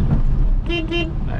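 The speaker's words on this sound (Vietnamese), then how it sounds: "Đấy, còi này." A Wuling Hongguang Mini EV sounds its car horn in two short, close, bright beeps, heard over low road and cabin rumble.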